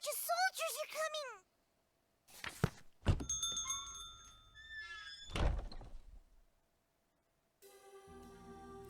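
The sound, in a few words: caravan doors opening in video game Labyrinth of Refrain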